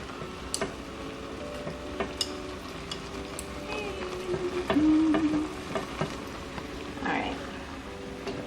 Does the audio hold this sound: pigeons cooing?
no